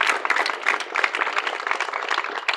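An audience at a student social awareness project on the revenue department claps, dense scattered hand claps filling the room at moderate loudness, steady throughout.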